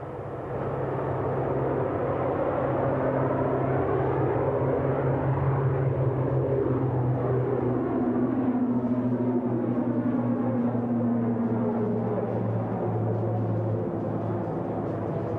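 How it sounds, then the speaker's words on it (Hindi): A C-295 military transport aircraft takes off at a Pokharan firepower exercise, its turboprop roar loud and steady throughout, with pitch sweeps as it climbs and passes. "C-295 is rolling for a quick takeoff."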